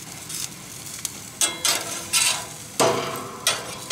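Grilled chicken hissing on a hot grate as a spatula flips the pieces, with several sharp scraping clacks between the steady sizzle.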